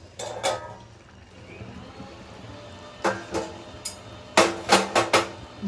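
Metal lid lifted off a cooking pan while making mango-ginger rava upma, a few sharp clinks and clatters, then a cluster of rapid ringing metallic knocks close by, with quiet kitchen ambience between.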